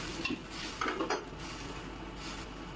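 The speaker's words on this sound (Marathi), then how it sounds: "Chilli sauce, green chilli mix करून घेऊया." A spoon stirs chili sauce and green chili into a hot and sour vegetable soup, with soft scraping and clinking against the pot in a few quick strokes over a low cooking hiss.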